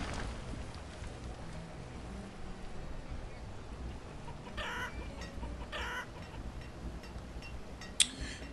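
Chickens cluck in the medieval town-building video game Banished, short soft clucks popping up a few times over a constant ambient wash.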